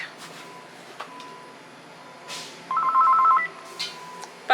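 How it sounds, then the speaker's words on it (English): A landline telephone rings on a busy farm, its electronic tone sounding in a short burst over a quiet room hum, with faint background rustles before and after. "of course the phone is ringing."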